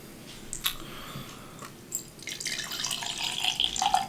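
Empire Brewing Co. Black Magic Irish Coffee Stout, whiskey barrel blended, is poured into a glass: a few faint clinks, then a steady gurgling, splashing stream of liquid that grows fuller and louder up close.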